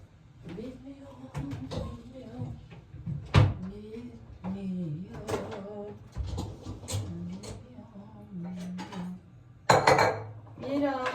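Plates, pots and cutlery clatter and clink as a home dishwasher is emptied, with cupboard knocks and a sharp loud crash near the end, all mixed with ongoing conversation between people in the kitchen.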